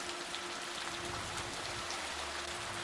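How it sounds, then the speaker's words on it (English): A heavy rainstorm sweeps over an island, a dense, steady hiss of pouring rain that holds evenly for the whole stretch with no voices. "the rain began picking up, turning into a full-on storm that swept over the island"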